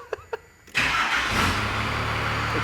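A Cummins diesel engine swapped into a Nissan Patrol starts after two short clicks, then settles into a loud, steady, fairly high idle close by with no talk.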